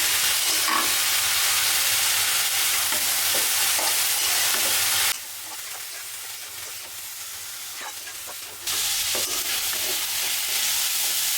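Banana stem being fried and stirred in a pan with cumin and salt, a steady close sizzle with scraping stir strokes, the level dipping for a few seconds midway before rising again.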